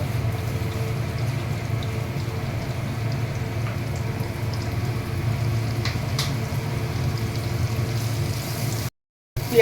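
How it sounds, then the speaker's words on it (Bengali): Onions fry in hot oil, giving a steady, soft crackling sizzle with occasional sharper pops, continuous and fairly quiet before a short break at the end. "এইবারে গরম তেলের মধ্যে পেঁয়াজ দিয়ে দেবো।"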